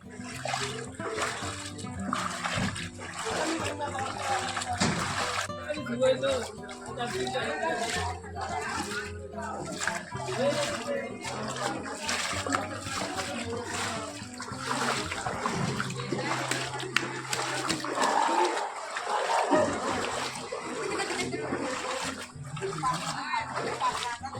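Floodwater from heavy rain churns and splashes through a village in Fatehgarh Sahib district, Punjab, a continuous busy wash of water heard under people talking nearby.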